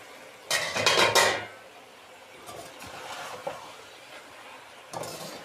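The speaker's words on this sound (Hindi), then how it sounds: "अब हम ढकना उठा के देखते हैं।" A metal lid clanks and rattles as it is lifted off a cooking pot of cauliflower and tomatoes, a short bright clatter, followed by quieter kitchen sounds and a faint later clink.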